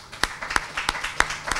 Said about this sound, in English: you all need to give yourself a round of applause